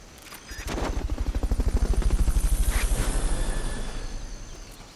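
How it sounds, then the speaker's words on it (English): A helicopter in the video game Metal Gear Solid Peace Walker, with rotor blades chopping in a fast, rhythmic thump that swells loud and close, then fades as it passes. "Fulton recovery to helicopter is complete."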